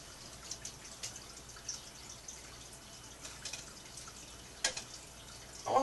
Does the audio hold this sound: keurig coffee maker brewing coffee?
yes